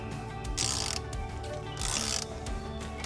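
A ratchet with a socket works a radiator coolant bleeder on a triple-pass radiator, with two bursts of rapid clicking a second apart, close and crisp.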